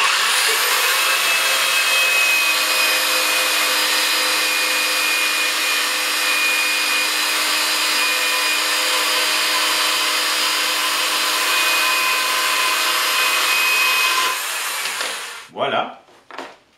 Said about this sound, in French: Cette scie est fantastique. J'adore ça pour couper tous les morceaux de métal que j'ai à faire